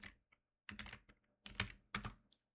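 Typing git status on a computer keyboard: a few separate bursts of crisp, close key clatter with short silent gaps between them, and no voices.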